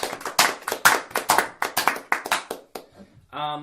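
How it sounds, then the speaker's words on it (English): A short burst of hand clapping from a small group, brisk and uneven, mixed with voices talking and laughing over it, then trailing off into a brief sung or hummed tone at the end. "Round of applause."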